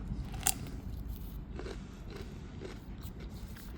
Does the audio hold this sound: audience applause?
no